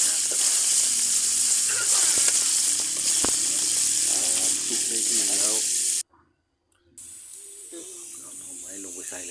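Minced pork sizzles loudly in a hot wok with stirring scrapes, then briefly cuts out before the frying hiss resumes.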